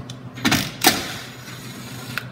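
Close clicking and creaking of screws being worked out of a Polaris Slingshot SLR rear body panel, with a few brief sharp mechanical ticks over a low background hum.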